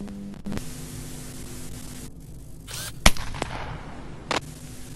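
A video cassette plays in a video game, producing loud continuous static hiss over a low mains-like hum, broken by a few sharp clicks and bursts of noise as the tape runs.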